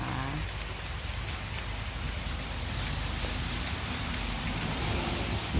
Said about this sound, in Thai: ฝนก็ตกแซ่ๆนะคะ สองชั่วโมงกว่าละยังไม่หยุดเลยจ้า